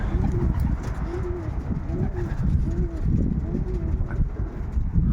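A Eurodiamond-line breeding pigeon hen in a loft gives repeated soft, throaty coos in a steady pulsing pattern, close to the microphone, with light wind noise behind.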